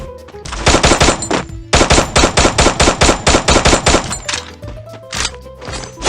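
Gunfire in a shooter video game: rapid, loud bursts of automatic shots in two long rhythmic strings with a brief pause between, close and dominant with no talk over them.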